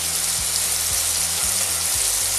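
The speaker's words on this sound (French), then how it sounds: "la pomme, on ne cherche pas à la cuire, juste une petite pré-cuisson" Apple pieces briefly pre-cooking in a frying pan, a dense, steady sizzle of frying at close range, constant in loudness with no talk, and low hum-like tones in the background.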